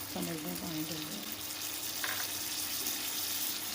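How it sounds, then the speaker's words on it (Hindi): A cup of water pours into a cooking pot holding potatoes and eggplant, a short, steady splashing gurgle up close against a constant background sizzle and hiss from the stove. "एक कप पानी डाल देंगे"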